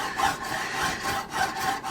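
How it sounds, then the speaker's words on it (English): A hand file works a Weber 34 ICT carburetor on a VW in steady back-and-forth rasping strokes, about five or six per two seconds, close and even in level, with no voices. "file down the carburetor where it's not supposed to be filed"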